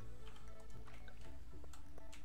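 Soft repeated dripping and splashing of water onto crops in the farming game Stardew Valley, a few quick watery squishes over steady background music, no talking.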